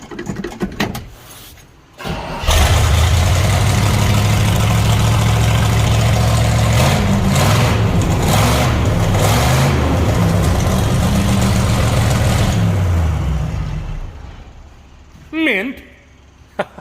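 Detroit 8V71 diesel engine powering an elevator, cranking over and settling into a loud, close, rough running rumble for about ten seconds before winding down, with a brief bit of talk near the end.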